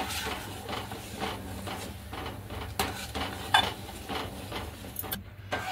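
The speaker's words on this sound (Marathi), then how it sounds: "आता ही पण मी याच्यात टाकते म्हणजे याला मस्त अजून एक मस्त हलवून घ्यायचं आहे छान असं" A spoon stirring homemade milk cream into tomato soup in a pot, with soft rhythmic scraping and light clinks against the metal over a faint simmering hiss, close and without speech.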